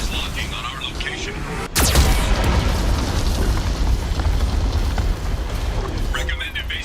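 A Geth cannon in Mass Effect 2 fires with a sudden sharp blast, and a sustained loud roaring rumble carries on after it. A voice speaks over the noise.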